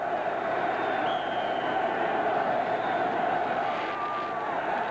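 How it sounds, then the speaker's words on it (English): A sparse but energetic football crowd at a 1989 Rams at Patriots game in Foxborough keeps up a steady, distant roar and murmur from start to finish. "A sparse but energetic crowd in Foxborough"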